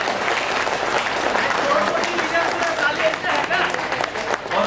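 An audience at a real-estate company business meeting bursts into dense, continuous applause that carries on loudly for the whole stretch, with voices mixed in underneath.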